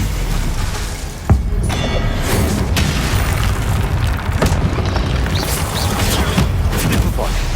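A Stupefy spell cast in the Hogwarts Legacy video game during a fight with the Pensieve Guardian, heard as a sharp burst that rises out of a loud, continuous wash of battle noise.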